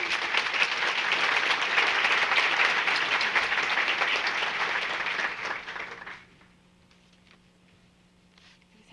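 Loud, dense applause from an audience at a community service award event, a crowd of hands clapping steadily for about six seconds before it drops off sharply into a quiet room with a few stray claps.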